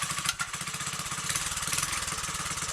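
A Briggs small engine running with a new EC carburetor, a fast, steady chugging putter that stays close and loud throughout, with no voices.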